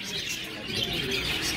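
Lovebirds calling at night, a brightly coloured pair of small parrots, giving busy overlapping chirps and tweets that run continuously at moderate loudness, close to the listener with no talking.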